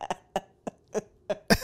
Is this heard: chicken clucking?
no